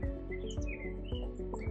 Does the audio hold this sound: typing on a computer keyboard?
no